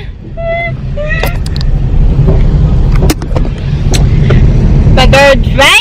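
A car rolls down a hill, its engine and road rumble a steady low drone inside the cabin, with faint voices and brief high sounds over it.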